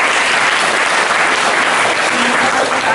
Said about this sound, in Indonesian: tepuk tangan orang pesantren ini